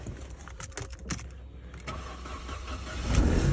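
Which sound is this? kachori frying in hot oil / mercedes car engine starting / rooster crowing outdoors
mercedes car engine starting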